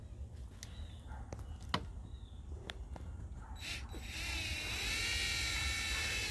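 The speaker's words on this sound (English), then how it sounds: "when you're using the power screwdriver, hold it for a second, put a little pressure to it till it gets lined up" Power screwdriver driving screws into a screen door: clicking ratchet-like bursts and taps, then a sustained whirring drive near the end, close and fairly quiet.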